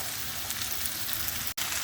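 Spinach sizzles as it goes into softened onions in a hot pan, a steady close frying crackle that holds for nearly two seconds, broken by one sudden instant of silence near the end.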